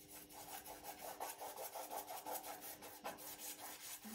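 A brush drawing varnish across a small painting in soft, repeated rhythmic strokes, faint and close, with no one speaking.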